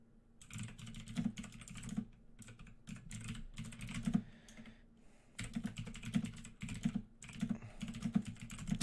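Loud computer keyboard typing close to the mic, bursts of rapid clacky keystrokes separated by brief pauses, with a low steady hum underneath.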